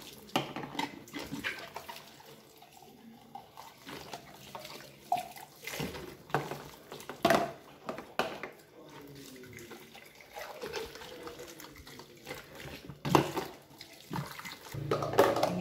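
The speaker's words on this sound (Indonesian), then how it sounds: "kita cuci dengan sabun sekarang kita bilas" Baby milk bottles are rinsed under a running kitchen tap, with irregular splashing and water flow, knocks of plastic against the sink, and occasional drips.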